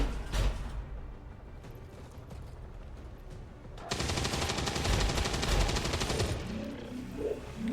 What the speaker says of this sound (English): So right now I'm just shooting at it to shred its armor